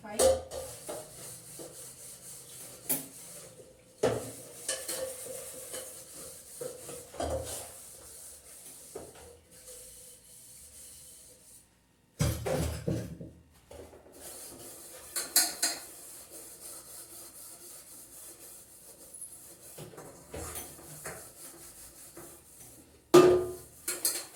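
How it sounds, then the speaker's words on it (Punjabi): Hand-washing of dishes: pots clank and scrape in irregular bursts, with steady scrubbing and rubbing between the knocks, close by and without talk. "ਭਾਂਡੇ ਇਕੱਠੇ ਰੱਖੇ ਭਾਂਡੇ ਮਾਂਜਦੇ ਆ ਪਹਿਲਾਂ"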